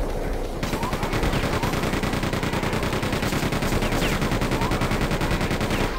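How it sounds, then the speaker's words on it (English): Rapid, continuous chain gun fire in Quake 2, a loud, dense stream of evenly spaced shots that runs almost the whole time with no break. "Chain gun time."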